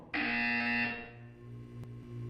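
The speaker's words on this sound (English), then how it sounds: "You will hear a buzzer. When you hear the buzzer, look up at the ceiling." A buzzer in the video game Portal 2 sounds once: a harsh, loud electronic tone that holds for about a second, then fades into a low mechanical hum.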